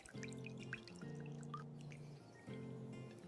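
Milk pours into a glass in short bursts of quiet liquid flow, with a brief pause between two pours.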